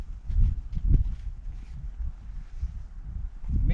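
Wind buffets a microphone outdoors on a fishing outing, low rumbling gusts that swell and fade irregularly, close and fairly loud, with no other clear sound.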